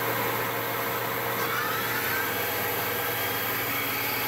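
A KURAKI KV-1000 machine runs at about 3000 RPM, giving a steady, continuous mechanical hum and whine that holds evenly from start to finish with no talk over it.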